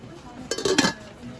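A metal cooking pot handled on a shop shelf, a quick cluster of clinks and knocks close by over quiet store ambience.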